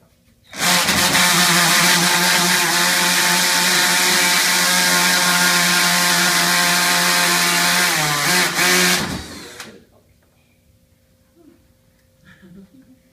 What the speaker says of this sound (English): Now, not so hard on the drill.